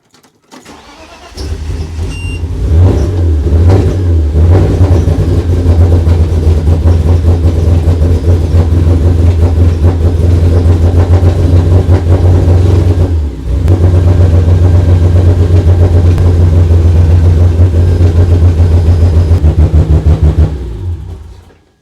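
A BMW E46 engine fitted with big Bosch injectors and running rich cranks and catches, then holds a loud, close, lumpy idle with light revs, stumbles briefly near the middle, picks up again and shuts off.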